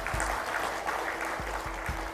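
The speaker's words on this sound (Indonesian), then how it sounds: "Tepuk tangan buat ibu-ibu." A crowd applauds a group of women at a village economic development event in Indonesia, producing a short, continuous wash of clapping at moderate volume.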